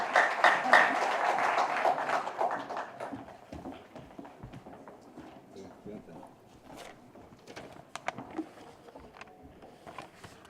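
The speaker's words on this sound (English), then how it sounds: "A big hand of applause, ladies and gentlemen, for our chief guest." An audience at a formal function in New Delhi applauds the chief guest, a dense clatter of clapping that is loud at first and then thins out and fades into sparse claps.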